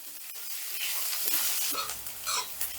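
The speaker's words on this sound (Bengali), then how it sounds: "এবারে রসুন পেঁয়াজ আর কাঁচা লঙ্কাটা হালকা করে ভেজে নিচ্ছি একটু লাল লাল করে ভেজে নেবো" Garlic, onion and green chilies fry in hot oil, a close, steady hissing sizzle with light stirring scrapes and a brief louder crackle toward the end.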